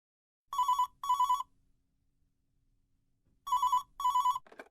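A telephone rings close by in two double bursts separated by a pause, followed by a brief click as it is picked up.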